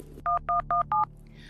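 Four evenly spaced telephone keypad tones beep in quick succession as a phone number is dialed, each a short clear two-tone bleep, close and alone over a faint low hum.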